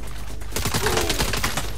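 Rapid gunfire in the Saints Row video game, a dense burst of overlapping shots that starts partway through and keeps going loud, with game effects layered underneath.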